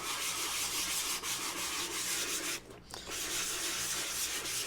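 A sanding block is worked by hand over a wood finish coated with Rapid Fill & Fine Finish: steady, close, gritty rubbing strokes with one brief pause, no voices.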